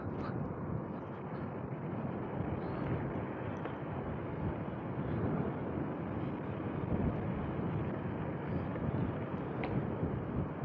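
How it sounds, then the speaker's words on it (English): Strong wind along Blackpool's seaside promenade, heard while riding a bike, as a constant, loud, roaring rumble buffeting the microphone throughout with no letup. "This wind's getting up."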